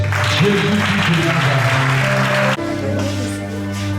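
A church congregation at an evening vigil applauds and cheers for Jesus, loud sustained clapping and voices swelling together over ringing tones, continuing after a brief dip partway through.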